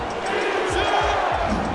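A large sellout stadium crowd at an American football game, Orlando at Dallas, roars and cheers steadily in a short, dense swell with no clear break.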